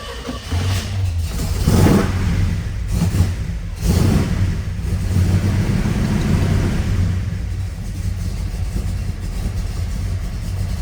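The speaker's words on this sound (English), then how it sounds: "It's a big engine. It's going to need a little gas in that 800 CFM carb to start up." A large V8 engine in a 1972 Chevy Chevelle with an 800 CFM carburetor cold-starts, cranking and catching, revving loudly a few times before settling into a rough, rumbling idle close by.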